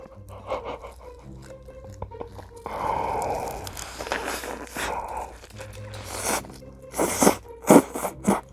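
Crunchy bites and chewing of folded kimbap come in close, irregular bursts with louder crisp crunches near the end, along with faint rustling and brief soft vocal sounds.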